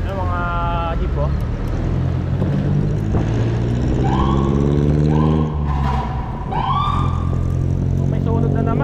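A fire emergency vehicle's siren wails in city traffic, rising and falling in several long sweeping tones over steady road and wind noise.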